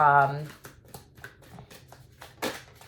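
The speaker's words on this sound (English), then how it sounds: "Let's shuffle live on camera." A deck of cards is shuffled by hand, giving a quick string of crisp clicking riffles and soft snaps that run for a few seconds after a brief voice at the start, ending in one louder burst.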